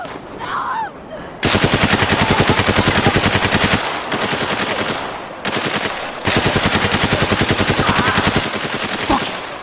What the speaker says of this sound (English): Taking the shot.